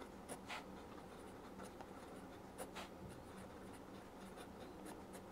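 A pen or marker scratches faintly in short strokes while someone writes a word during a maths lesson. The room is otherwise quiet.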